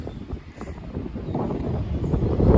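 Steady low wind rumbles and buffets against the microphone in a park in Belgium, growing louder toward the end, with no talking.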